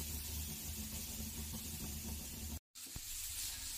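Grated yellow pumpkin frying in a little ghee in a pan for halwa, a continuous close hiss and sizzle with faint stirring clicks, briefly cut to silence before the sizzle resumes.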